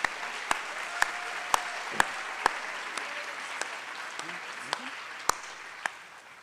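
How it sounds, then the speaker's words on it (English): Scattered applause from a modest audience at the FCCPS 2023-2024 school convocation, with sharp individual claps standing out over a light, steady patter that fades toward the end. "let's give them another round of applause"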